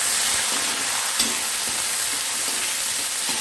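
Onion and chillies fry with roasted spices in a pan for a Hyderabadi paneer dish, a steady, loud hiss of sizzling oil with a few soft scrapes of stirring, no voices.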